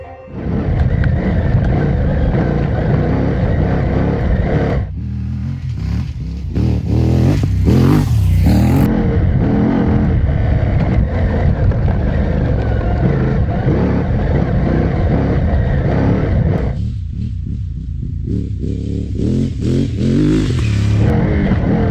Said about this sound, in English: let's see how the 450MT behaves on grass fields